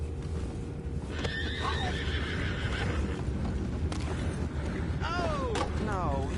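Horses whinny in Red Dead Redemption 2, several distinct neighs rising and falling over steady hoof clip-clop and a low rumbling background, fairly close and clear.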